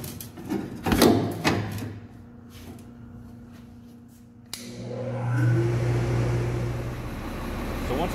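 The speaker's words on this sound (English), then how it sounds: "truck is started" Some handling thumps come first, then a fire truck's heavy engine turns over and settles into a loud, steady idling rumble close by.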